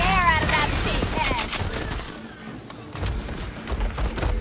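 Gunshots in a fantasy video game, rapid overlapping shots and thumps crowding together near the start, thinning out, then picking up again, with voices shouting over the action.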